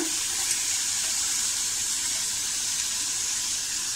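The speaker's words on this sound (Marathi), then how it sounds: "आणि याच्यामध्ये आपण थोडं पाणी टाकूया" Water pours steadily into a pot of dates, tamarind and jaggery on a gas stove, a continuous close hissing splash with no one talking.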